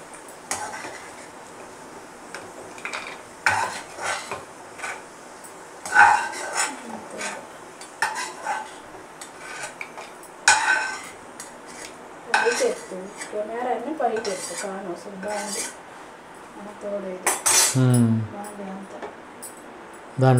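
Metal spoon scraping and clinking against a pan while fried pieces are scooped out of ghee for sweet bread halwa, a series of irregular clatters and knocks close by, with a voice speaking over part of it.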